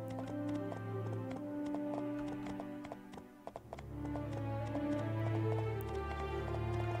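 Hooves clip-clop in the video game My Time At Portia, a quick steady run of crisp clicking steps layered over looping game music, pausing briefly midway and then resuming.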